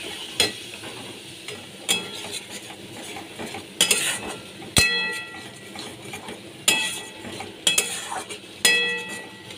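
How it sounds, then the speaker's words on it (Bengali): A ginger, garlic, tomato and onion paste sizzles in a pan while being stirred, with a steady frying hiss broken by repeated clinks and scrapes of a utensil against the pan at a brisk, uneven rhythm. "আদা, রসুন, টমেটো, পেঁয়াজের পেস্ট দিয়ে আমি ভালো করে কষিয়ে নিচ্ছি।"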